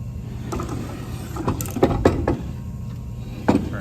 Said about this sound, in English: But I'll get those clamped on there.